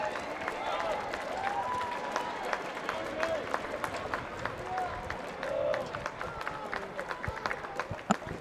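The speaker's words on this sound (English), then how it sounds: "being warmly applauded by the crowd" Crowd applause at an under-19 Asian rugby final between Chinese Taipei and Korea, a steady wash of clapping and cheering spread across the stands, running continuously with a commentator talking over it.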